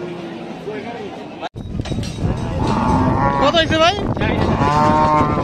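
Cattle at the Hazratpur cow market before Qurbani moo loudly and repeatedly at close range, with long drawn-out calls over crowd chatter and people talking nearby, after a brief sharp knock.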